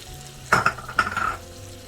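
Mackerel seasoned with black pepper and Mrs. Dash frying over a high flame: a short burst of sizzling with a couple of clinks, close and fairly loud, no voices.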